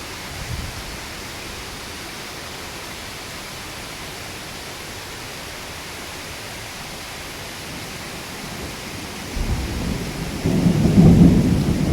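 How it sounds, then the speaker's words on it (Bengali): Steady, dense downpour of heavy morning rain at a work site in Malaysia hisses throughout, swelling louder near the end with a low rumble underneath. "সকালে কাজের সাইটে আসতেই প্রচুর পরিমাণে বৃষ্টি"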